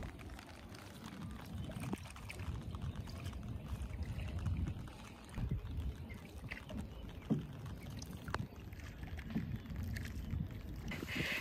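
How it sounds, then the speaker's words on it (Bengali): A boatman rows a country boat along a river in the rainy season, giving a steady low rumble of water and oar strokes with occasional splashes and knocks, close by, with wind buffeting the microphone. "এই যে আমার মাঝি নৌকা চালাইতেছে,"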